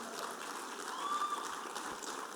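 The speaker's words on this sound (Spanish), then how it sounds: "Si le vas a aplaudir al Señor, apláudele fuerte." A church congregation applauding during a Spanish-language sermon, a steady wash of clapping from a crowd at moderate distance, soft and continuous with a faint tonal whistle in the middle.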